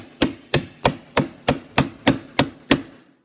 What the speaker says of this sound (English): And one trick I recommend is putting this hammer sideways and then hitting it like this.